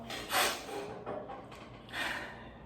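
A person sniffles and snorts through the nose, with two short audible nasal bursts about a second and a half apart, close to the microphone and otherwise quiet.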